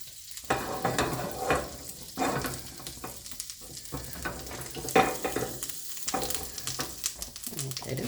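Butter sizzles and fries in a pan. Bursts of stirring and scraping swell and fade in an uneven rhythm over a steady crackle, heard close up.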